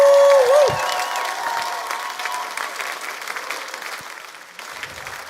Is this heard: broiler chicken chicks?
no